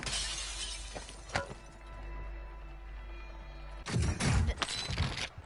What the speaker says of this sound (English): That was me that broke the glass